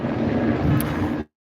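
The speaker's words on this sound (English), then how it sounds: "we have police helicopters keeping an eye, protecting Scientology from any turbulation" A police helicopter passes overhead above Hollywood Boulevard, a loud, continuous, broadband rotor and engine roar that holds steady, then cuts off abruptly.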